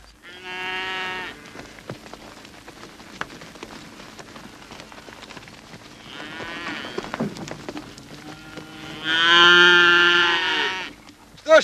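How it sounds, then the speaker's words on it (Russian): Cows low loudly and close by, three separate drawn-out moos spaced across about twelve seconds in a rural 1961 Russian setting, with a soft patter like rain between them. "Что ж ты, брат, при оружии коров испугался?"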